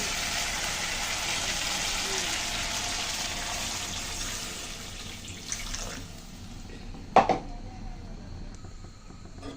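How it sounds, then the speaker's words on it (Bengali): Water pours into a pan of cooking spices for a Bengali lentil-dumpling and new potato curry, a steady hissing gush that fades out, then a brief clatter and quiet. "মশলা কিন্তু পছন্দ হয়ে গেছে এখন আমি জল দিয়ে দেবো"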